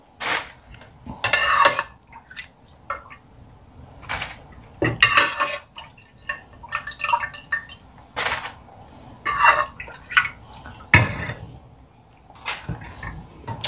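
Plates and bowls being washed by hand, irregular clinks and clatters of dishes knocking together with splashing in between, close and fairly loud, no talk.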